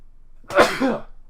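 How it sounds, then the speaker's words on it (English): A single sharp sneeze, close and fairly loud, with a brief burst then a short tail. "Oh man, of all things, I'm gonna sneeze."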